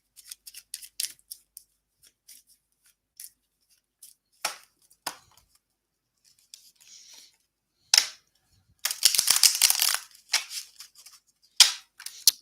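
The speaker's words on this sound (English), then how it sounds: "I'm going to give this deck a good shuffle." A deck of cards is shuffled at a reading table: scattered soft flicks and taps, then a denser riffling burst, close and fairly quiet, with no talking.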